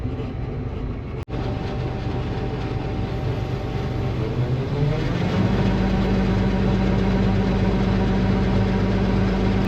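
A full combine harvester idles steadily while waiting for the auger cart, a constant close engine drone with a low rumble that grows slightly heavier about halfway through, with no talking.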